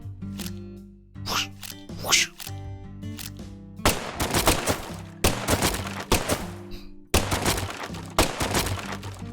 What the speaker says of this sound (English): For a tranquilizer gun, it really packs a punch.